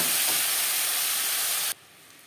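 Broccoli coated with salt, turmeric, ginger paste and green chili paste sizzles lightly in a pan. A broad, even hiss runs for under two seconds, then cuts off abruptly into near silence.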